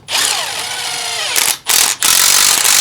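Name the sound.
driving self-tapping screws into a truck frame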